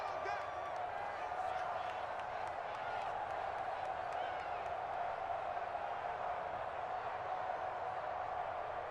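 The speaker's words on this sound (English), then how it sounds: "This crowd doing all they can." Stadium crowd in the video game Madden NFL 24, a constant roar of cheering and noise held at an even level beneath a commentator's voice.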